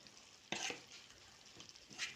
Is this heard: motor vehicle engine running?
no